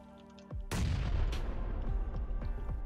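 A grenade blast goes off close by in a solo battle-royale shooter, a sudden loud broadband boom that rumbles and decays, followed by several sharp rapid gunshots ringing out.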